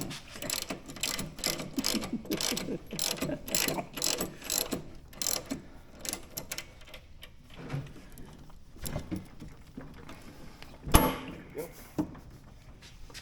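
Ratchet wrench clicking as it turns bolts on Harley-Davidson motorcycle shocks, a fast run of close mechanical clicks that slows and thins out, with people talking and a sharp knock near the end.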